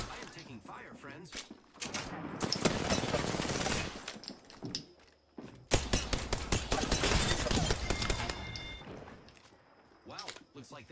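Rapid bursts of automatic gunfire in the Apex Legends game come in two long dense volleys, loud and close, with a voice talking before and between them.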